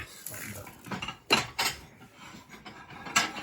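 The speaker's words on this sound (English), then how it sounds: "And there we got black pepper as well. We should just give it a bit of a grind." A pepper mill grinds black pepper over tomatoes in a home kitchen, giving several short crunchy ratcheting bursts spaced irregularly, close and fairly quiet, with no voices.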